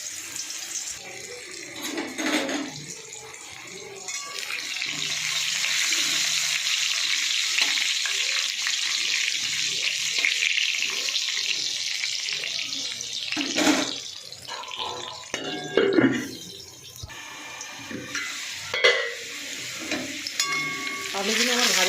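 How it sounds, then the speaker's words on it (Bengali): Potatoes fry in hot oil in a kadai, giving a steady close sizzle that runs throughout, with occasional clatters of stirring and scraping. "এই আলুগুলো ভেজে নেবো।"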